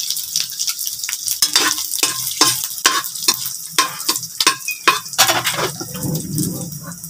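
Garlic sautéed in hot oil for a lumpia toge filling, crackling and sizzling steadily close by, with repeated scrapes and clinks of a utensil stirring against the pan, settling into a softer sizzle near the end.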